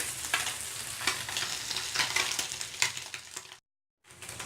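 Small anchovy fish sizzle and crackle in hot oil in a frying pan, a loud continuous close fry with scattered pops, cut off briefly near the end.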